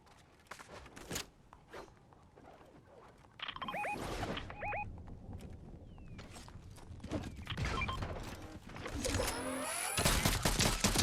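Automated turret firing in a multiplayer video game, bursts of rapid shots amid footsteps and other game effects, moderately loud and building toward dense fire at the end.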